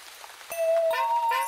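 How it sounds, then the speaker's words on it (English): A cartoon rain effect from the children's animated show Numberjacks: a short burst of bright, plinking tones and a sustained chime-like note over a soft wash, with no voices. "We'd still have quite a few clouds left to bring us rain."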